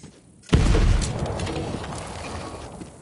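A loud blast goes off after half a second of near silence in the video game Borderlands 3, its heavy low rumble decaying slowly over the next few seconds.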